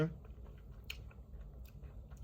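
Shine Muscat grapes, a premium Japanese variety, are chewed close to the mouth, giving soft, quiet, irregular wet crunches and squelches over a low background hum.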